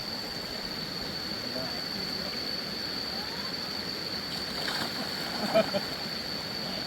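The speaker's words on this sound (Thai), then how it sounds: "อันนี้ต้นต้นเป็นต้นน้ำตกเลยเป็นลำธารเล็กๆนะครับ" Small stream at the source of Tat Nok Khian waterfall in Thailand rushes in a steady, even wash of flowing water, continuous throughout with a person talking over it.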